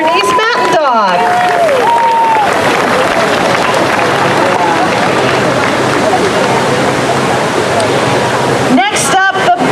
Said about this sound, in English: A big round of applause for the Bernese Mountain Dog.